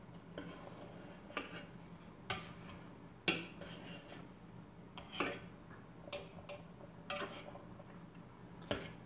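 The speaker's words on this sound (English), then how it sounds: "when the metal spoon or fork scrapes against the metal" Metal spoon or fork scraping and clinking against a metal pot while pasta cooks, a series of faint, irregular clanks and scrapes spaced a second or so apart in a quiet kitchen.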